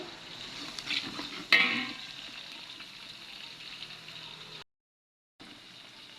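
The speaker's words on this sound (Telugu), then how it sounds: "ఆనియను లవంగా పట్ట పచ్చిమిరపకాయలు వేసాను బాగా వేయించుకోవాలా" Onions, cloves, cinnamon and green chilies frying in a pan for chicken biryani, giving a soft steady sizzle with a brief stirring clatter, fairly quiet and heard alone before a short gap of silence.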